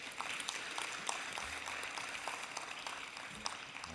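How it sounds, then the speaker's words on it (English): A forum audience at a digital trade opening applauds a speaker with continuous, fairly quiet clapping from many hands, an even rushing patter heard from some distance. "I think she deserves another round of applause"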